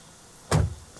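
Car door in the Thief Simulator 2 video game, one short solid thump with a brief rattle as the player climbs out, close and alone over quiet background.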